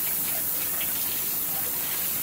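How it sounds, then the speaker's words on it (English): Hot tap water gushes steadily over cat water fountain filters being rinsed in a sink, a continuous broadband splash heard close and alone for the whole stretch. "Hot water, a nice rinse."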